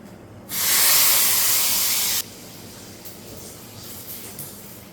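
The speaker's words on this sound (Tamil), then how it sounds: "1/4 ஸ்பூன் கடுகு போடுறேன்." Mustard seeds dropped into hot coconut oil give a loud, bright sizzling hiss that bursts in suddenly, holds for nearly two seconds, then cuts down to a faint background crackle.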